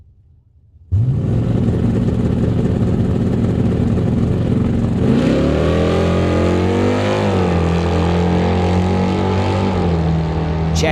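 A 1984 Mazda RX-7 drag car with a 350 small-block Chevrolet V8 under a cowl-induction hood fires up loudly at a drag strip and revs hard, its rumbling tone climbing and falling as the throttle is blipped.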